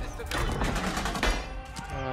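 Cannons fire during a siege battle in the video game Age of Empires 4, a dense burst of booming shots and crackling volleys layered over each other, loud throughout.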